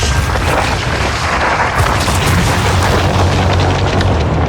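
A super slow motion explosion in a Neill Blomkamp short film, a dense sustained roaring blast with deep rumble that fills the whole stretch at high loudness, no voices.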